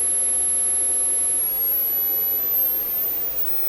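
A steady high-pitched test tone around 12 kilohertz plays through Electrohome Acoustech speakers (models E00411 and E00412), a thin continuous whine that slowly rises in pitch over a low background hiss.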